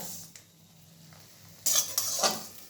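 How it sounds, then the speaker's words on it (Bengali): Vermicelli fries in melted ghee in a wok and is stirred, a soft sizzle broken by a few sharp scraping stirs near the end, close up and without voices. "এরপর আমি একটু হালকাভাবে সিমুইগুলো ভেজে নিলাম।"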